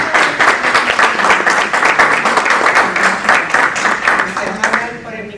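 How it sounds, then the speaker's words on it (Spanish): A seated audience at an academic talk applauds a doctor being introduced, a brisk, fairly close round of clapping with a few voices mixed in, fading toward the end. "Démosle un fuerte aplauso"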